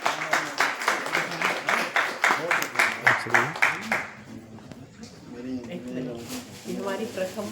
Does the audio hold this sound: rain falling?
no